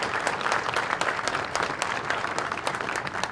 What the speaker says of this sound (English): How about a round of applause for Rick?